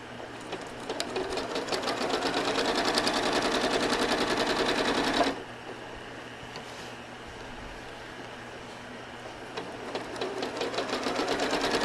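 Home sewing machine stitching quilt fabric, a fast, steady mechanical whirr running loud for several seconds, pausing briefly, then resuming at a lower, slower pace.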